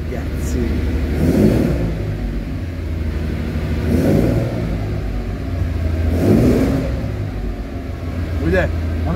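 A 1978 Ferrari 400 with a twelve-cylinder engine idles with a deep rumble and is revved in several swelling bursts, close and loud in a small workshop, with people talking over it.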